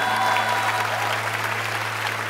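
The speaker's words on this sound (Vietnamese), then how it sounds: "Và một tràng pháo tay dành cho nghệ sĩ Phi Phi" An audience on a Vietnamese TV entertainment show applauds make-up artist Phi Phi, with dense, steady clapping and a constant electrical hum beneath it, no one speaking.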